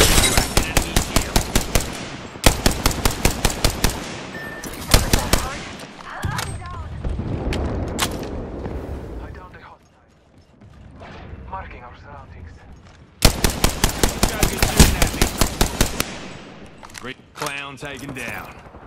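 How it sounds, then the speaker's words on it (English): Rapid automatic weapon fire in an Apex Legends ranked match comes in loud, dense bursts of evenly spaced shots, broken by quieter mechanical clicks and reloading sounds, with in-game character voice lines heard between volleys. "They're shooting at me."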